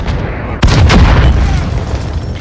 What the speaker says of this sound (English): that's a rocket